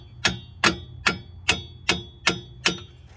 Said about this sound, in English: Take a hammer here a little bit.